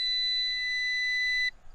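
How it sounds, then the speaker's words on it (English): A Ruko F11MINI 245g brushless GPS drone gives a steady electronic beep to signal GPS lock, a single sustained tone that stops sharply, heard alone. "I keep getting this beep, and that beep is telling me we have a GPS lock."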